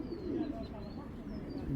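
A racing pigeon coos nearby in soft, low, rolling murmurs that continue through a short stretch, with no one talking.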